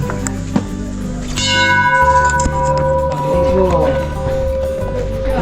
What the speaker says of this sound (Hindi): इतनी सारी घंटियाँ हैं, जो बजाना है वो बजाओ